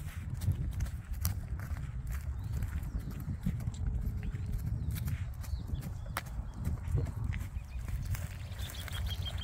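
A bay horse with a white blaze walks across a paddock, its hooves thudding on the ground in a steady, close, uneven gait over outdoor background noise, with no talking.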